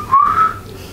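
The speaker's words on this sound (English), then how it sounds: "Oh, whistling. I thought it was screaming." Eerie whistling in the horror movie Insidious, a single short wavering whistled tone rising and dipping over about half a second, close and clear above a low background hum, with no talk.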